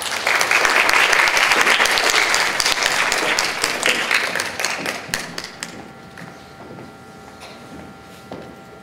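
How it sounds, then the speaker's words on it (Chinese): Enthusiastic audience applause welcomes two speakers onto the stage at a university lecture hall, loud, dense clapping that holds steady for several seconds, then thins out into scattered claps and fades to near quiet. "让我们用最热情的掌声欢迎"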